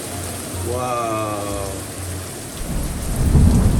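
Heavy rain pours down outside a cottage, a loud steady broadband hiss that swells stronger toward the end, with a person briefly exclaiming over it early on.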